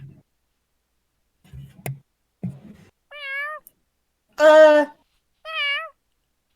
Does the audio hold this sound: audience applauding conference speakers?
no